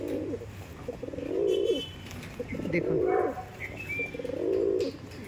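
A pair of black-lined Madrasi pigeons coo in three low, rolling phrases, close and clear, with someone briefly speaking over them.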